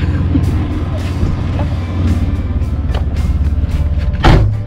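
An oncoming car drives past on Eighty Mile Beach, heard from inside a 4x4 as a steady engine drone and road rumble with a few knocks and a louder whoosh as it passes near the end.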